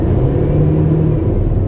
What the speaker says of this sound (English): The car is like breaking down.